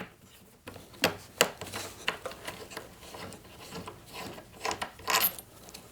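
T27 screws loosened on the backpack straps of an Echo PB 770T blower, with close scraping, clicking and rubbing of the driver and metal parts in irregular bursts.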